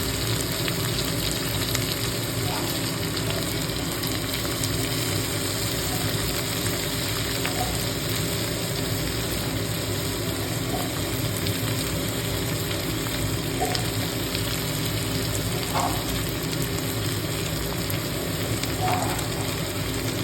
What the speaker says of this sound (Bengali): তারপর ওগুলো ফ্রাই হবে একসাথে ওগুলো